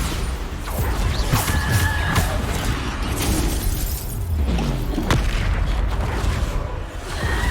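Bombarda spell explosions during combat in the Hogwarts Legacy video game, a dense run of loud booms, crashes and shattering impacts layered over a constant rumbling battle din.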